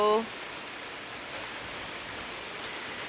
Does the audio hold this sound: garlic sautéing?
no